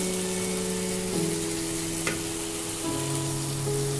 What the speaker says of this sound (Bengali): এই মাছটি রান্না করার সময় অবশ্যই আপনারা বারবার নেড়ে চেড়ে দিবেন, যাতে করে নিচে না লেগে যায়।